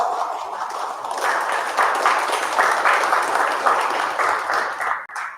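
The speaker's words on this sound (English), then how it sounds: "Give her a round of applause." A crowd at an annual sobriety celebration applauds a speaker being introduced, sustained clapping that swells after a second and holds strong before breaking off abruptly near the end.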